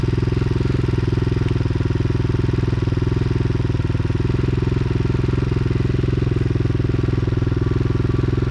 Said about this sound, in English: Feel the exhaust in the milk crate.